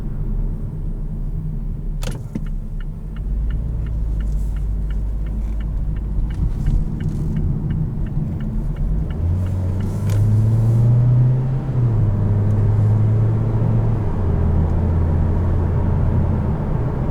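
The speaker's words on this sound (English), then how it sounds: "take this car out onto the highway and see how it does out there" A 2018 Mazda CX-3 small SUV cruises on the highway, heard from inside as a continuous low engine and road rumble with a steady drone that rises slightly in pitch midway.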